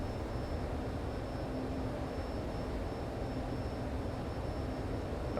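Steady jet engine drone of an F-14B in Microsoft Flight Simulator, a constant broadband roar with a thin high whine held at one level, alone with no talk.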